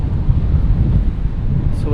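Strong wind buffets the microphone outdoors at a Supercharger station beside a gas station, producing a continuous, loud low rumble with no break.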